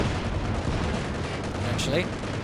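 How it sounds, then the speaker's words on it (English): Battle noise from the Company of Heroes 2 real-time strategy game: a dense, continuous rumble of gunfire-like bursts and blasts. A sharper crack near the end could be the anti-tank grenade. "It's going to unleash an anti-tank grenade."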